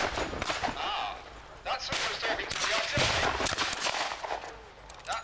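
Gunfire and artillery at a WW2-era battle reenactment at Old Sarum crack out in dense, loud volleys and bursts, overlapping sharply with booming reports, while indistinct voices sound briefly underneath.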